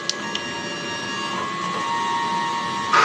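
A DTF printer runs its print head cleaning cycle, a steady mechanical whir with high whining tones and a couple of faint clicks at the start, louder toward the end.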